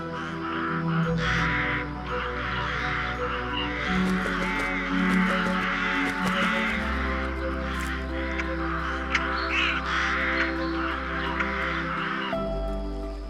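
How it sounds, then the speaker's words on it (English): Rooks caw repeatedly and overlap in a busy colony chorus, harsh and fairly close, over a steady low droning background. "gregarious birds, such as rooks, which form extensive colonies in the topmost branches"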